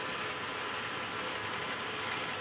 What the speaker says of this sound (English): As I continue moving that train out of the way, as soon as it goes over the bridge and goes into the next block